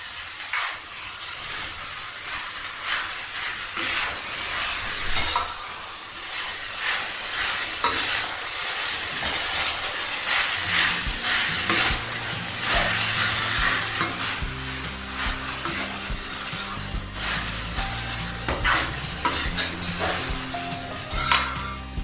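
Vegetable fried rice stirred in a hot pan, with a constant loud sizzle and frying hiss under repeated scraping and clinking of a spoon against the pan, near and continuous throughout.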